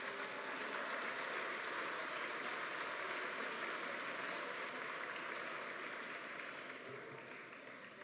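Audience at a hospital celebration for bone marrow transplant survivors giving a long round of applause for caregivers, an even, distant roar of clapping that tapers off near the end.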